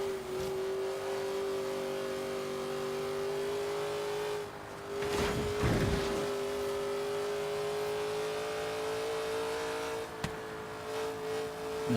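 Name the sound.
car driving and revving in Forza Horizon 3 video game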